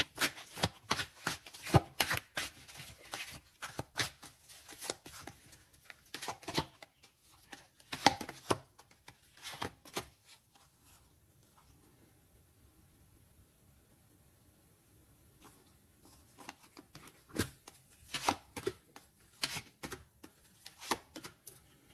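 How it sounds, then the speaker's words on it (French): Tarot cards being shuffled and laid down, with quick papery riffles and soft slaps in close bursts, a quiet pause in the middle, then more handling toward the end, no talking. "Je vais mettre une carte sur ce message, les amis."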